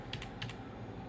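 A couple of quick keystrokes on a Samsung RV410 laptop keyboard, two short soft clicking taps close by in a quiet room, with no talking.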